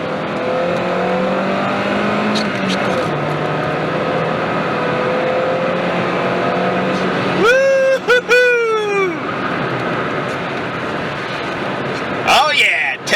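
Car accelerating hard from a standstill to 60 mph on a road, engine note climbing through rising pitch sweeps with gear changes, loud and close inside the cabin, with voices talking over parts of the run.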